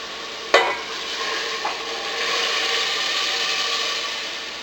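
Beef stew being stirred in a pot with a spoon, a sharp scrape against the pot near the start, a softer knock, then steady stirring and gentle simmer-like noise with no voices.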